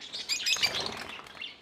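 Pet birds in a backyard breeding colony, including spangle and dilute budgerigars at feeding time, give quick high chirps and brief wing flutters, close and moderately loud, with no talking.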